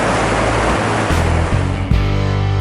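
Rushing water roars in a loud, steady broadband wash, like a powerful waterfall heard from close by: the Shypit waterfall in the mountains of Zakarpattia, Ukraine, at full flow.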